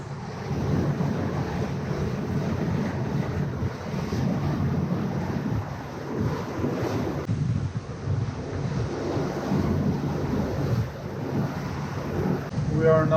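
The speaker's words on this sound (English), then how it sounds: "We're not gonna take risk in these waves and wind." Rough sea waves and strong wind around a Fountaine Pajot Saona 47 catamaran sailing off southern Italy, a constant loud roar of buffeting wind and sloshing water with occasional gusts, no clear talk.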